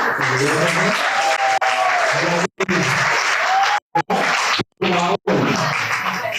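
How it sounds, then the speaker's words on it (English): Audience applause at the KASA Gala 2021, with a voice speaking over the clapping; the sustained clapping is broken by several brief dropouts. "A round of applause for Pet."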